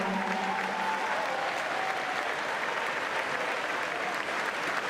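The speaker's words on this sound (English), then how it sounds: "Keep those applause going." Spectators at a YMCA national short course swimming championship applaud seniors in a sustained, dense wash of clapping filling the pool hall, steady and loud throughout with a faint tone lingering early on.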